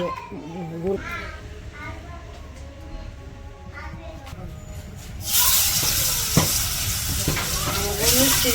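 Fish frying in oil in a village kitchen, a loud hissing sizzle that surges up partway through after quieter background noise, with children and adults talking over it.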